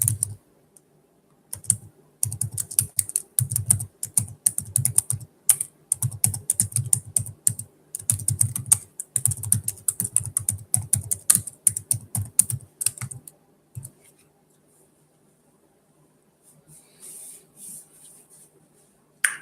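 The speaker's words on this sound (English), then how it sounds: "I'll just type it out in the chat." Fast typing on a computer keyboard, dense clattering keystrokes in quick runs with short pauses, close and clear, then fading to quiet with a few light taps near the end.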